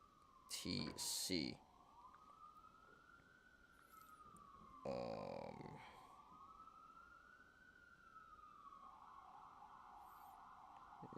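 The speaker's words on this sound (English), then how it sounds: "Here comes some sirens." Emergency vehicle sirens pass at a distance, a faint rising and falling wail sweeping slowly up and down, with someone talking over it in short bursts.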